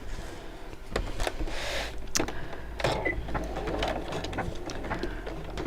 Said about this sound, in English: I'm just going to sew around this edge with a 1/4 of an inch seam allowance